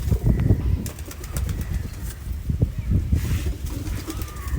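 Pigeons, including Rajshahi local giribaz, cooing close by: low, repeated throaty coos pulsing throughout, with a faint flutter and some brief higher noises.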